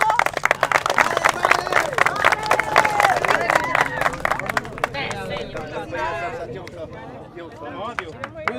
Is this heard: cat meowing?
no